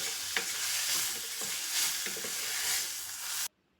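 Methi (fenugreek) leaves fry in oil in a pan while being stirred. A bright, steady sizzle runs with spatula scrapes for about three and a half seconds, then cuts off abruptly to silence.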